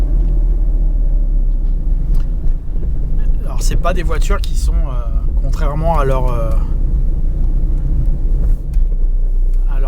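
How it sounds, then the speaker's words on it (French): A 2015 Citroën C3 1.6 HDi 75 BlueHDi diesel hatchback on the move, its steady low engine rumble and road noise running throughout, with someone talking over the cabin drone. "Le niveau sonore sur cette première approche, il est assez correct pour une petite voiture diesel"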